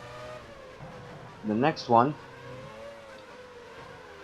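Formula One cars racing in the F1 Challenge video game at the 1999 San Marino Grand Prix, a steady engine drone beneath a voice speaking briefly over it.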